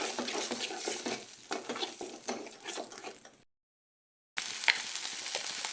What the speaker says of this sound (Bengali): ভালো করে মরিচটাকে ভেজে নিব।